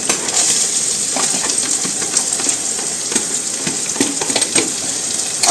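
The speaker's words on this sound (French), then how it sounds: "je vais mettre maintenant mes oignons et mes ails." Onions and garlic sizzle and crackle steadily in a hot pan, a close, continuous frying hiss with scattered pops and spatters throughout.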